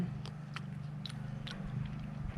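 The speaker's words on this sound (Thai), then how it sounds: "แบล็คเบอร์รี่เดี๋ยวเรามาชิมกันเลยดีกว่า" Fresh blackberry picked from the tree being bitten and chewed, several soft wet crunches up close, quiet, over a low steady background hum.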